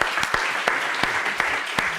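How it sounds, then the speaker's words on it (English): Steady applause from an audience, loud and close, with individual claps popping through a continuous wash of clapping across the whole stretch and no talk over it. "So we applaud you again."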